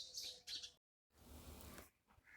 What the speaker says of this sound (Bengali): ভোরবেলা ওঠা মানেই হচ্ছে পাখির শুধু ডাক শোনো